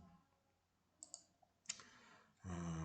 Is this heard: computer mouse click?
yes